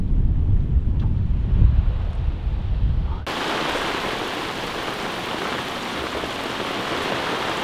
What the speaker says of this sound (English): I heard it can be pretty nasty, the wind.